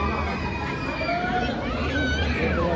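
Crowd chatter fills Mahalakshmi temple in Kolhapur during sesame-sweet season, a steady, dense hubbub of many overlapping voices with no single speaker standing out.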